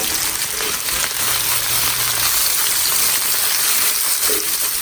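Onions sizzle in a pan after a batch of meat has been browned, a steady broadband hiss running close and fairly loud throughout with no talking.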